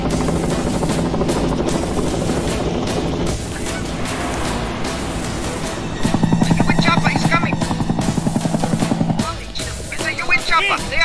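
Helicopter rotor chop from a military chopper carrying heavily armed men in Somalia, a loud steady beating that swells and pulses strongly midway, mixed with music and other sound.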